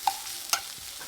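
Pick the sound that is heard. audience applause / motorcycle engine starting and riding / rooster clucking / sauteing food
sauteing food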